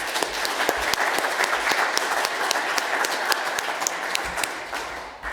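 A live audience at a COP26 Scottish local government leadership event applauds its panellists, a dense, steady burst of clapping from a sizable room that holds for several seconds before easing off.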